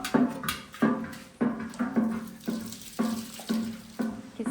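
Water poured onto potted plants in gushes, a repeated splashing rhythm of roughly eight or nine short pours, close and moderately loud, with no talking.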